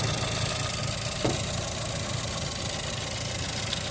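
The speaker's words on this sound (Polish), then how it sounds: "Już z 5 minut silnik pracuje, jest ok." A car engine idles steadily and loudly, a continuous low rumble with no talking.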